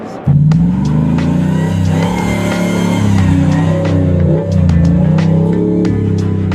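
Close and loud, a Hemi-powered Jeep JK barks to life through its Borla exhaust, then holds a deep, steady rumble with a few throttle swells and a brief dip before roaring on again.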